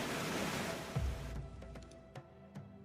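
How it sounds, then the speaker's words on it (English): Waterfall in the survival city-builder game Patron, a steady broadband rush of falling water that fades after about a second, leaving a quieter wash with a few faint clicks. "Is that a waterfall?"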